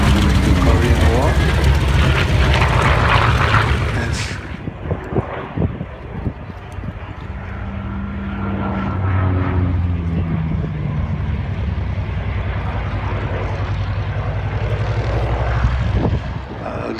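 A Hawker Sea Fury piston-engine fighter from the Korean War era drones past at an air display, a loud, steady engine roar that dips as the aircraft moves off, while a voice talks over it.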